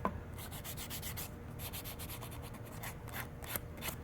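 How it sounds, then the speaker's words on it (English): Steady back-and-forth rasping of sandpaper smoothing the edges of a leather piece for a pouch or sheath, close and continuous with a brisk rhythm and no talking. "take your sandpaper"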